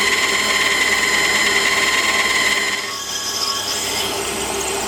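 Machine drilling a bore 30 mm deep into a quill plate, a steady grinding, rasping cut with a feed motor running close by, continuous and fairly loud before easing slightly partway through.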